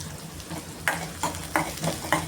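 One large chopped onion sautés in two tablespoons of oil in a kadai with mustard seeds and curry leaves, a soft steady sizzle broken by four regular scraping stirs of a spoon.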